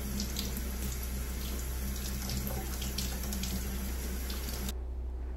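Tap water runs steadily into a sink while fresh mint leaves are washed, a constant close hiss and splash that cuts off abruptly near the end.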